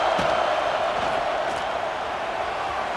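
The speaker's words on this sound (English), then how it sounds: "Listen to the crowd energy here in the early going." Stadium crowd noise from a Florida State at Clemson game in EA College Football 26, a dense, steady roar of cheering fans with no distinct peaks, heard loud throughout.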